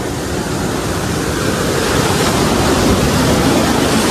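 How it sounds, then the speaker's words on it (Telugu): Sea waves at Pondicherry beach roar in a loud, continuous broadband wash of surf that swells slightly toward the end, with wind buffeting the microphone and no voices. "అలలు చూడు ఎట్లా వచ్చినాయి"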